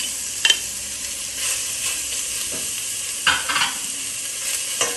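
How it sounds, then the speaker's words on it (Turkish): Meat searing in a hot pot for a meat and potato dish, a steady hiss with occasional clatters and scraping of stirring. "etlerimi o şekilde içinde bir mühürleyeceğim ilk önce"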